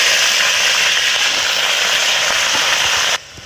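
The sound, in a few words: pumpkin greens frying in oil in a pan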